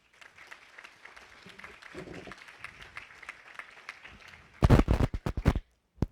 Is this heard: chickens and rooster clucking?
no